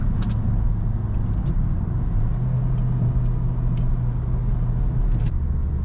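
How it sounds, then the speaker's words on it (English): A Peugeot 308 GTi 1.6 turbo with 197 HP is driven on the road, heard from inside as a constant low engine and road drone. A few brief faint hissing bursts could come from its blow-off valve. "This nice sound of blow-off is really interesting."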